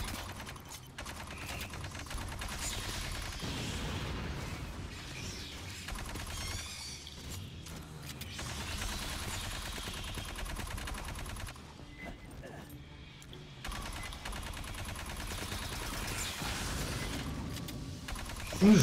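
Rapid video game gunfire crackles in long, close bursts, broken by brief pauses and mechanical clatter, loud and sustained throughout.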